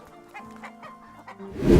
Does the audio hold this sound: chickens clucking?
yes